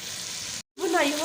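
Green chilies frying with masala in a hot pan for chicken korma give a steady, close crackling sizzle. It cuts off briefly, then returns with a short voice over it.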